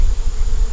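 Honeybees on an opened, growing hive with its top removed, only a few bees present, give a steady low buzzing hum close by, continuous and unbroken with no talking.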